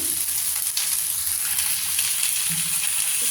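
Chicken seasoned with turmeric and salt fries in a pan with a steady, loud, close sizzle that never lets up, with only faint stirring underneath and no voices.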